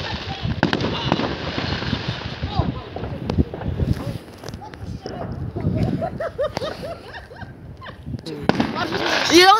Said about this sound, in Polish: Mało i tak jest fajerwerek w tym roku.